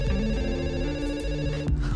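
A telephone rings on a call attempt, a repeating electronic ringtone with harmonic tones, moderately loud and alone, no talking.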